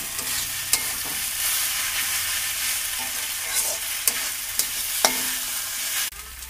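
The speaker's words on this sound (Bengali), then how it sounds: "আদা রসুন দিয়ে কষানো হচ্ছে" Ginger and garlic sautéing in oil with browned onion in a pan, a continuous close sizzle punctuated by several sharp spoon clinks and scrapes as it is stirred, with no one talking.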